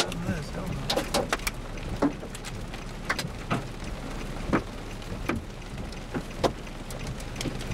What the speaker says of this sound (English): There's some nice size hail on that.